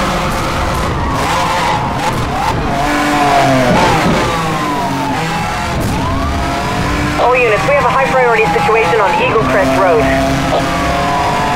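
Sports car engine in the racing game Need for Speed Hot Pursuit Remastered, a high-pitched engine revving and shifting through rising and falling sweeps, with tire skids, loud throughout under a steady game mix.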